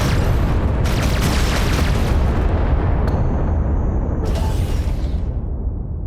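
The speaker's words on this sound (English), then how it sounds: "Explosions are not really destroying much." Explosions in the space video game EverSpace 2 boom out as a dense, loud, sustained roar of blasts with rumbling low end and a brief whooshing tail, with no talk over it.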